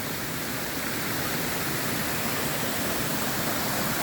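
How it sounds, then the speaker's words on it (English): A waterfall on a river at Ricketts Glen roars as a dense, steady rush of falling water, loud and close, with no voices over it. "that would be a beautiful waterfall."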